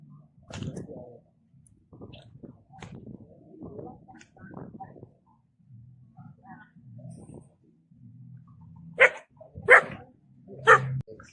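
A dog barks three times in quick succession near the end, loud and close, after a stretch of low rumbling and scattered noises.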